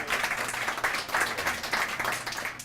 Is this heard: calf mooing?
no